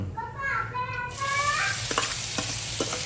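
Green garlic and onion hit hot oil already tempered with cumin and asafoetida, giving a loud, steady sizzle with scraping stirs; a faint high chatter in the first second, then continuous frying throughout.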